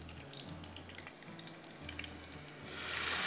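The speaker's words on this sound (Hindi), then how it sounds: "थोड़ा सा पानी डाल रही हूँ कि प्याज एकदम से और ना जल जाए" Water hits onions frying in a pan, giving a steady hiss and crackle that swells louder toward the end; faint and close.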